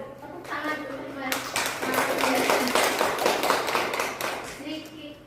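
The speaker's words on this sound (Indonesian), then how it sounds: "tepuk tangan teman-teman" Classmates clap together in a classroom, a brisk burst of many hands that swells for a few seconds and tapers off, with talking voices before and after.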